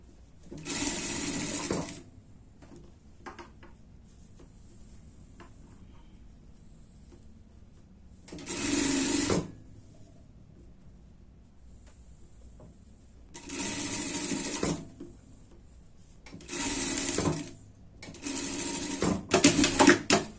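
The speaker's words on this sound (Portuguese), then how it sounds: "vamos passar uma costura aqui no degote" A sewing machine stitching the neckline of a themed party dress, running in five loud, steady whirring bursts of one to two seconds each, separated by quiet pauses.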